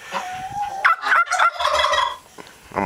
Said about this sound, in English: He's doing his drum. That's that puffing sound.